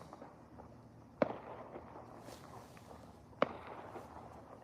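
Fireworks bursting over a New Year's Eve night, two sharp, loud bangs a couple of seconds apart standing out from a low rumble of distant crackle and background noise.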